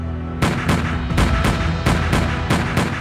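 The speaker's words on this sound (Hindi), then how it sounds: "एक के बाद एक गोली चलाकर ओ ड्वायर को उसके कर्मों की सजा दे दी।" Pistol shots in a dramatized reconstruction of a 1940 London shooting ring out one after another: about seven sharp, loud reports at a steady, slightly uneven pace with no talking.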